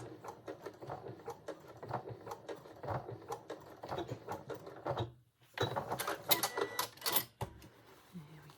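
Sewing machine running a few back stitches on a jacket, rapid close mechanical ticking in bursts with a brief pause and slightly louder clattering after it; no talking.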